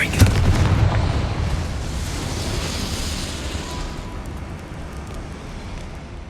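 A Confringo blast curse explodes in the Hogwarts Legacy video game, opening with a sharp burst followed by a long, loud rumbling roar of debris and fire that slowly fades.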